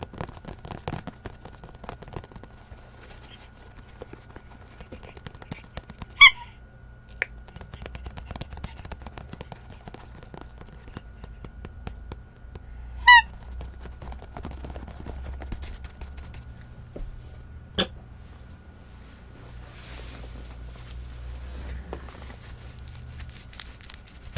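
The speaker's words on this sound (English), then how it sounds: "This is her squeaky bone" A squeaky rubber dog toy bone squeezed close to a microphone in a quiet ASMR setting, three separate sharp squeaks spaced several seconds apart between soft handling and crinkling noises.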